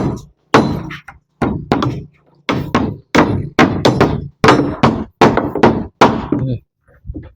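Nails hammered into wood during construction of a house, a rapid run of sharp, loud wooden knocks in quick bursts of two to four strikes separated by short pauses.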